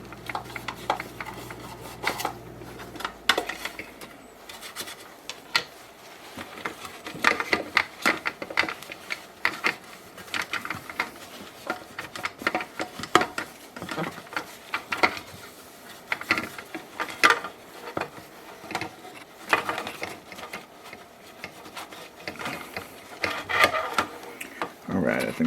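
A toothbrush scrubbing small crevices of a dismantled Premier Pets aquarium air pump, quick irregular scratchy strokes repeating close up, with faint talk at times.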